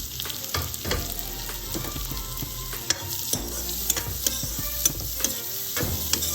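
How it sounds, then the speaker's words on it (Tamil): Elephant foot yam pieces sauté in a hot pan for kulambu, with a steady close sizzle broken by regular spatula scrapes and taps against the metal. "இப்போ வந்து இந்த கிழங்கு சேர்த்து ஒரு நிமிஷம் வதக்கிக்கிடலாம்"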